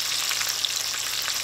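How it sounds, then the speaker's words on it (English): Fire Doritos-coated mahi mahi pieces frying in hot oil, giving a steady, close, bright crackling sizzle without pause and with no voices. "these bad boys have been frying for 5 minutes now"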